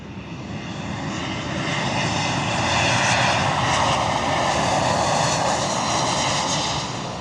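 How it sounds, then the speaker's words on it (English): A Vueling airliner touching down, heard as a loud, sustained roar of aircraft engines and rushing air that swells toward the middle and holds steady with no one talking. "That's a Vueling flight. Don't know where that's coming from, but he's touched down"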